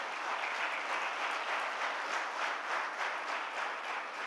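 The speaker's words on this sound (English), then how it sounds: "and you must clap for yourself" Steady audience applause at an Indian mutual fund industry event, a dense, even wash of many hands clapping throughout with no voices standing out.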